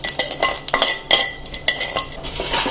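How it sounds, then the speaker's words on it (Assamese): A spoon stirs nigella seeds through leftover fish-frying oil in a pan, giving close, irregular metallic clinks and scrapes with a faint sizzle underneath. "কালজিরাখিনি অলপ লাৰি দিম"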